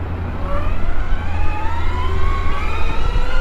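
A BMX-style electric bike at full throttle gives off a steady rising motor whine, close and loud, with the pitch climbing continuously as it accelerates.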